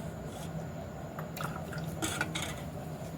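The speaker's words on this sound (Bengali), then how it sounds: "এবার এগুলোকে কুলফির মোল্ডের মধ্যে ঢেলে নেব।" Complan kesar badam ice cream mix poured into a kulfi mould, heard as soft close liquid drips and trickling with faint background noise, no talk.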